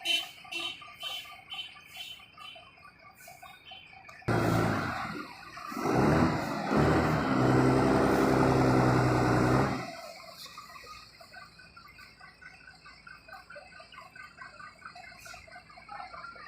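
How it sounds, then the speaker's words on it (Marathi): Heavy traffic of trucks and cars near the Rahuri bus stand, with a loud vehicle engine rumbling close by for several seconds before fading back to a quieter road hum with birds chirping. "रस्त्याला पण भरपूर ट्रॅफिक जाम आहे"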